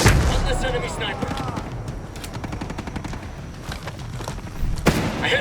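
Sniper and rifle fire from Ghost Recon Breakpoint forms a dense, steady barrage of shots with a sharp loud crack near the end, over battle noise and some background voices.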